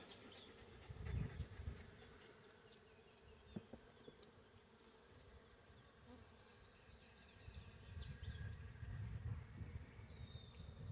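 Honey bees swarm and buzz in a steady, agitated drone during a hive inspection, the hum swelling and easing with no talk over it.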